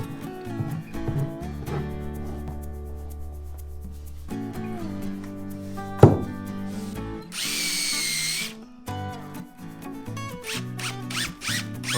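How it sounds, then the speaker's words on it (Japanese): A power driver sets screws at an angle into flooring boards laid over a tatami-room raised platform with built-in storage, with several whirring bursts, a sharp knock, and a brief louder spell of driving, close and without speech. "やはり斜めにビスを揉んだ方が強いので、いつも通り貼っていきます。"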